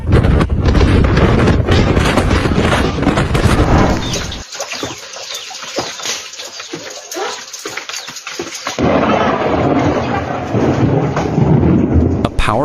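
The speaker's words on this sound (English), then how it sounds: "This powerful tornado hits Texas." A powerful tornado storm strikes Texas with workers stranded on a rooftop, a loud broadband roar of wind, rain and rumbling that drops away briefly mid-stretch before surging back at full force.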